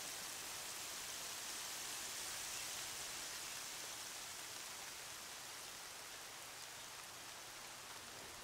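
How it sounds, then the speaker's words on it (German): Steady, dense video game rain hiss fills the whole stretch, an even wash of falling drops without pauses or voices. "Und es regnet gerade so angenehm."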